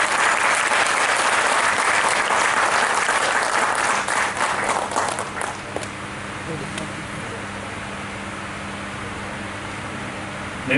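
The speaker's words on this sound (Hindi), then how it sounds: "जोरदार तालियां इन सब के लिए।" Loud audience applause at a Delhi Police YUVA scheme event in the West district, steady dense clapping for about five seconds before fading into quiet room noise and low hum.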